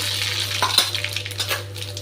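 Mustard seeds and urad dal frying in coconut oil: a close, crackling sizzle with a few sharp pops and light stirring, over a steady low hum.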